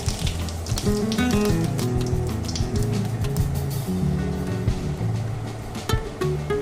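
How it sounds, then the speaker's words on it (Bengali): Whole cumin seeds sizzle and crackle loudly in hot oil, a continuous dense frying hiss with sharp pops, no voices over it. "এবার আমি তেলের মধ্যে দিয়ে দিচ্ছি গোটা জিরা ফোড়নে"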